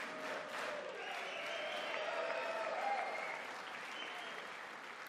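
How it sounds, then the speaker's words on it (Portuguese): Sustained applause fills a large chamber at the State of the Union as the audience claps for a returned soldier, a steady wash of many hands with scattered voices mixed in, holding level throughout. "Democratas aplaudiram o soldado, mas não participaram do cântico"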